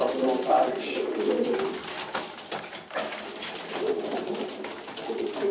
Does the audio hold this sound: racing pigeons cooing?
yes